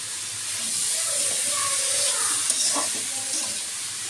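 Bottle gourd stir-frying in a pan, a steady close sizzle and hiss with faint scraping of a utensil as the pieces are stirred, with a brief murmur of voices in the background.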